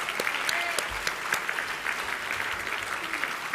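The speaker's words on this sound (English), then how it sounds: "I think he deserves a round of applause." An audience at an alumni awards dinner ceremony applauds a dean with steady, moderate clapping that fills the room, with a few sharper claps standing out near the start.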